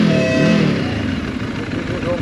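Voge AC525X motorcycle riding along at night, its engine a steady continuous drone with wind rush, loud and close throughout.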